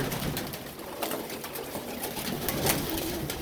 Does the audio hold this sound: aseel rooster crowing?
no